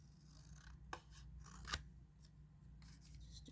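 Scissors cutting material for a candy wrapper keychain: two faint, quick snips against a quiet background with light rustling.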